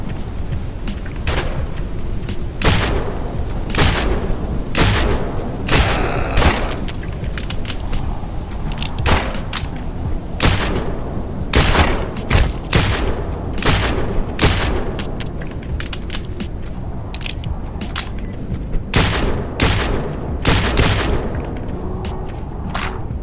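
Video game gunfire in a boss run of GALE, Urge Deathless: loud, sharp shots and booms fire in irregular bursts and single cracks throughout, over a steady game background with no talk.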